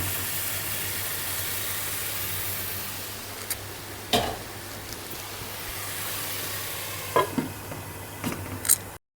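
Bottle gourd cooking over a full gas flame in a covered pan gives a loud, even hiss of steam and sizzling, with a few sharp clanks near the end and no voices.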